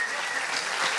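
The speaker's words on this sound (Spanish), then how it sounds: "Así que un aplauso para Emma" Brief burst of audience applause at a round-table panel event, a dense, steady patter of clapping from a seated crowd lasting about a second with no talk over it.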